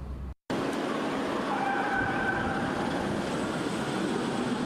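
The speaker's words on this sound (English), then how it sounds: "A police car sliding through the streets and a helicopter in pursuit." Continuous loud roar of a police car sliding through city streets and a pursuing helicopter's drone during movie filming in Birmingham, filling the scene after a brief cut to silence.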